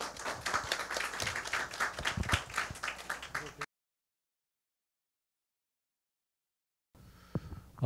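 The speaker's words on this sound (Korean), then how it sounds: "벌써 나오셔서 뜨거운 박수로 모시겠습니다" Audience applause welcoming a lecturer to the stage at a craft forum of the Cheongju Craft Biennale: a few seconds of moderate clapping, then a gap of silence, then faint clapping and rustling returning at the end.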